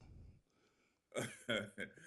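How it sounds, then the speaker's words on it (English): A few rough, harsh throat-clearing bursts up close, following a quiet moment, each grunt short and forceful. "I gotta go clear my throat."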